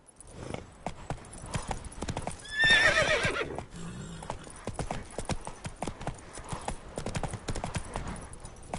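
Roach, Geralt's horse in The Witcher 3, gallops with a quick, rhythmic beat of hooves up close, broken midway by a loud, brief whinny before the running hoofbeats carry on.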